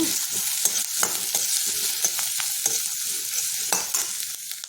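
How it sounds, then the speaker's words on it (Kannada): Chopped onion, ginger and garlic fry in oil in a pan, a bright close sizzle broken by repeated scraping stir strokes at an uneven rhythm, with no talking. "ಎಣ್ಣೆ ಹಾಕ್ಕೊಂಡಿದ್ದೀನಿ ಅದಕ್ಕೆ ಹೆಚ್ಚಿರೋ ಈರುಳ್ಳಿ ಹಾಕ್ಕೊಂಡು ಈ ಶುಂಠಿ ಮತ್ತು ಬೆಳ್ಳುಳ್ಳಿ ಅದನ್ನು ಹಾಕ್ಕೊಂಡು ಸ್ವಲ್ಪ ಚೆನ್ನಾಗಿ ಹುರಿಯೋಣ"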